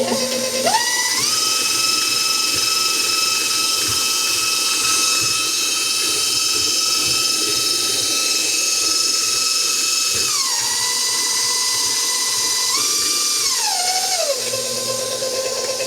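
KitchenAid Accolade 400 stand mixer running with the paddle, a steady close electric whine that shifts to lower speeds near the end, with no one speaking.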